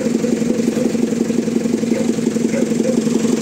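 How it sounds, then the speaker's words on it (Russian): A tractor engine idles at an animal shelter yard, a steady low rumble with an even chugging pulse, close and continuous with no voices over it. "подъехал трактор"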